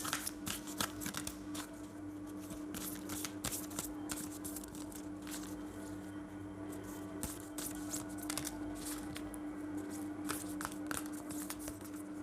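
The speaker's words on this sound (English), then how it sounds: "One more shuffle." Tarot cards being shuffled close up, a continuous busy run of riffling snaps and slides with a faint steady hum underneath and no speech.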